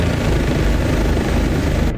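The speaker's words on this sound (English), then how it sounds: "formation helicopters is just a blessing to see" Helicopter in DCS World flight sim, likely an OH-58D Kiowa flying in formation, a loud steady rotor and engine roar with low thumping throughout, no voices.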